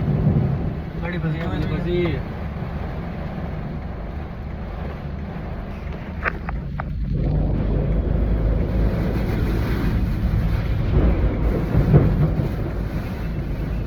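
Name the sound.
cold storm with heavy rain and thunder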